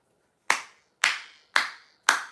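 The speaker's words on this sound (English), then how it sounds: "I'm gonna clap for that one." A single person claps hands four times at an even, steady pace, each clap sharp and close with a short decay, with silence between and no talking.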